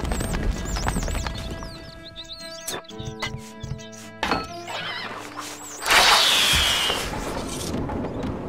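Horse hoofbeats and game sound effects in Stronghold Crusader: clip-clop hoof hits mixed with tonal chimes and squeals, then a louder noisy burst, all fairly close.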